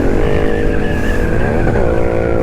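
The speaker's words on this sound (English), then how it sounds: "my bike sounds nice" A loud, steady engine roar with rising and falling harmonic tones, like a Yamaha R7 sport bike revving hard close by, continuous throughout.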